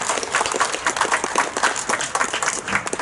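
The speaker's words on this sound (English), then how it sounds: "could you give them a big round of applause?" Audience applause at a church service, a steady dense patter of clapping filling the whole short stretch at moderate loudness.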